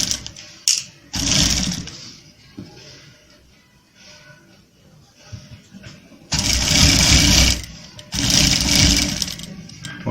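A sewing machine stitches the pocket of a kali-style kurta in loud, close whirring runs, one short burst early and two longer runs near the end, with quiet handling gaps between and no talking.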